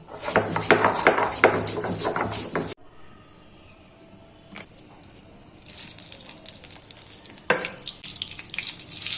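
Dried red chilies and bay leaves hit hot oil for a moong dal tempering with a loud, crackling sizzle that suddenly drops to a quiet simmer, then returns with clatters and renewed frying.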